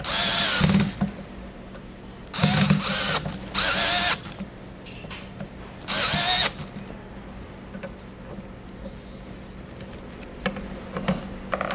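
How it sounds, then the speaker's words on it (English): Screw gun driving screws to mount an upper platen, several short loud whirring bursts separated by pauses with faint handling noise between, close and with no talk. "I can use a screw gun at first, but I got to tighten it with a screwdriver when I'm done."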